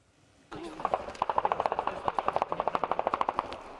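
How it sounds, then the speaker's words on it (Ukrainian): Rapid bursts of machine-gun fire crack out in a steady, repeated rhythm for a few seconds after a sudden start, amid shelling on the front line near Bakhmut, Ukraine. "Під кулеметні черги та обстріли"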